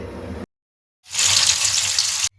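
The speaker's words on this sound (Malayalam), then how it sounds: "നമുക്കിത് ഫ്രൈ ചെയ്തെടുക്കാം" Overnight-marinated chicken sizzles in hot frying oil, a bright hissing burst lasting about a second after a short pause, heard up close with no talking.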